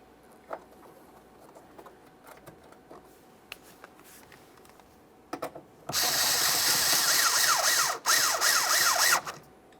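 Mounting hardware on the front door of a 1999–2006 Chevrolet Silverado 1500 takes scattered light ticks and clicks, then a loud power-tool whir runs steadily for about four seconds before stopping.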